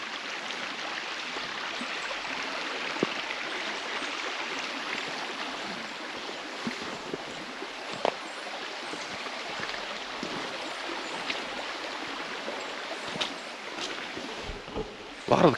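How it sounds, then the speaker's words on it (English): A creek flows beside a small campground in the North Georgia mountains, a faint, steady wash of water with occasional small splashes and light wind noise. "But here's the creek. It's right here by this little campground"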